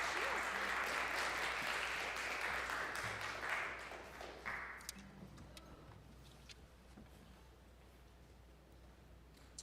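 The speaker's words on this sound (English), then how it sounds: "All right, Eric, let's give a big round of applause for our" Audience applause at a live Thursday night show, loud and steady for the first four seconds and then fading into quieter room noise with a few scattered claps.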